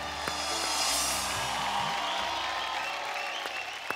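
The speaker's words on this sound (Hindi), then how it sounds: "जोरदार तालियां हो जाए भाई।" Enthusiastic studio audience applause on a televised Indian children's drama talent show, a dense, steady roar of clapping that fills the whole stretch with faint music underneath.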